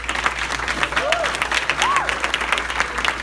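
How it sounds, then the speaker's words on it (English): A gala audience applauding, dense steady clapping that fills the whole stretch with no letup, and brief whistled or cheering tones rising above the crowd noise. "so let's give them a hand"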